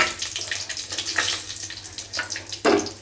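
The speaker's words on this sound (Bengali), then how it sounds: "ওই তেলেই আমি গোটা জিরে আর গোটা গরম মশলা ফোড়নটা দিয়ে নেব।" Whole cumin and whole garam masala spices crackling in hot oil left from frying potatoes, a busy sizzle with scattered pops and a sharper spatter burst near the end, close and without talk.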